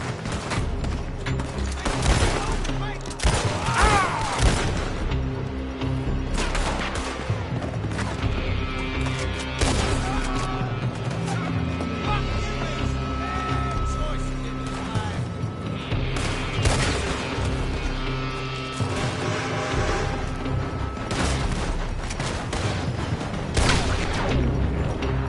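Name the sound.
gunfire in the video game Red Dead Redemption 2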